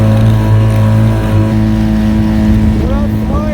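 A 1.2 hp outboard motor pushes a kayak across the water with a steady, close droning hum that holds a constant pitch throughout, with water noise around it.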